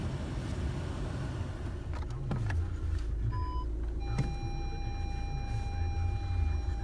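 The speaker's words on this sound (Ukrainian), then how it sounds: "Парктроніки пашуть, все чітко." Parking sensors of a 2.0 DSG VW Passat B7 chirping in short electronic tones, first a brief cluster and then a longer steady beep, over a low idling engine and faint ambient rumble.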